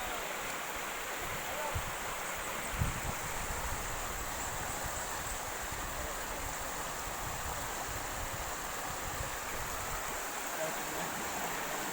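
A river flows steadily as someone wades across it on foot with shoes on, producing a constant rushing wash with a few faint splashes.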